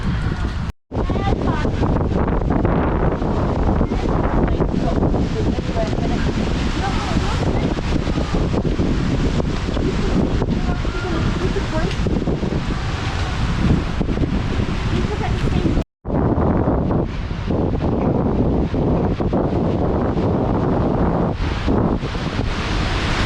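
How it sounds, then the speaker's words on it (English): Strong, steady wind from Hurricane Ian gusting at a resort with palm trees in Florida, roaring loudly across the microphone as continuous buffeting rumble, with two brief dropouts in the sound. "as you can see, and probably hear on the mic, that the wind is picking up"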